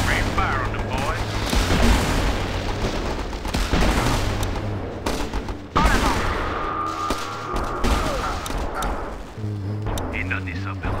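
Sustained bursts of gunfire in the video game Battle Island, loud and dense with booming impacts, running through most of the stretch while voices talk over it.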